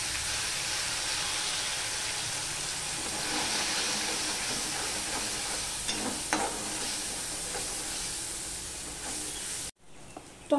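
Half a bowl of tomato puree sizzles and hisses in hot oil in a pan for a garlic- and onion-free potol korma, a steady frying sound with stirring, close and fairly loud, then an abrupt drop near the end.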